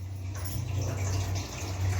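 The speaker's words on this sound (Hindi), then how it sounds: "मोटर चला के भर लेती हूँ पानी।" Water from a motor pump filling a container, a steady rushing flow with a low continuous pump hum underneath, close and fairly loud.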